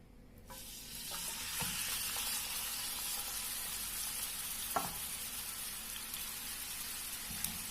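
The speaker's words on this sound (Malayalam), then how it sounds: "ഇനി നമുക്കിത് കുറേശ്ശെ ഇട്ടിട്ടൊന്ന് ഫ്രൈ ചെയ്ത് മാറ്റാം" Chicken frying in coconut oil gives a steady close sizzle that starts abruptly and holds, with occasional faint clinks and stirring taps in the pan, and no talk.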